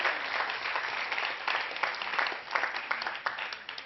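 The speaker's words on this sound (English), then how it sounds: "So let's give her a round of applause." An audience at a Sunday talk gives a sustained round of applause, a dense, even patter of many hands clapping at moderate distance, with no speech over it.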